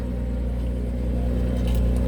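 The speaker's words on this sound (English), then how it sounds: "That's a cold start." A car engine runs just after a cold start, giving a steady, heavy low rumble at close range with no change in pace. No one speaks.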